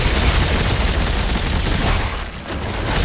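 Rapid weapon fire from a new gun in the sci-fi horror shooter Dead Space 3, a dense, loud, continuous barrage of shots mixed with heavy combat noise, briefly dipping before resuming.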